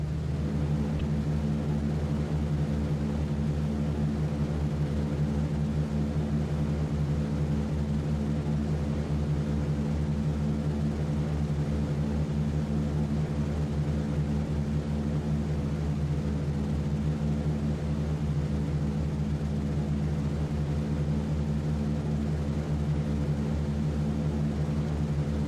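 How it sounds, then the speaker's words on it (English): Multiple radial propeller engines of B-17 bombers in a flight game run as a steady, deep droning roar with a constant throbbing hum that fills the whole stretch, with no voices. "The aircraft are firing up."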